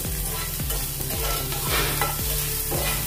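Ginger garlic paste sizzles and fries in a hot pan, with a utensil stirring and scraping in regular strokes roughly every half second, close and steady.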